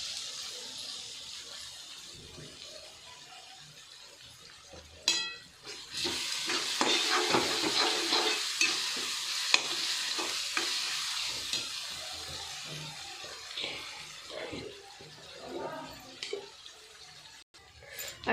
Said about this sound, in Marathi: आता टोमॅटो टाकून घेऊ।